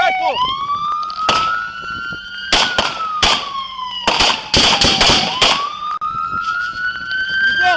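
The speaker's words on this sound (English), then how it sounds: "Shots fired! Shots fired!" Gunshots fired during a police shootout with a suspect's shotgun, several loud sharp bangs in irregular bursts over a wailing police siren, with people shouting.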